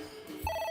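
A phone starts ringing in the video game AI: The Somnium Files, a bright electronic tone kicking in partway after a short quiet lead-in, clear and close.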